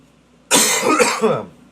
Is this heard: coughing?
yes